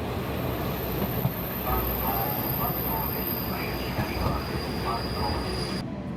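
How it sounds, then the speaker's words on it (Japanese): A KiHa 47 diesel train rumbles past close by at Bando Station on the Kotoku Line in Japan, a steady low roar of rolling cars with faint rail squeal and a few light clicks. "坂東駅で列車交換です。"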